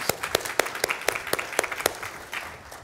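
Brief burst of audience applause at a political discussion event, dense clapping that swells, then tapers off over a few seconds.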